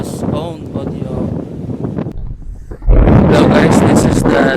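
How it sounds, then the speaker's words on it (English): Strong wind at a seaport blasting a Tecno phone's microphone: heavy, roaring buffeting that dips briefly, then surges louder and stays constant, close and overpowering, with no clear talking. "It's too windy right now."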